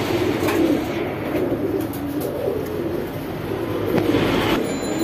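Pakistani Teddy pigeons coo steadily from their cages, a dense, continuous low warbling chorus at close range with a few faint clatters, and no one speaking.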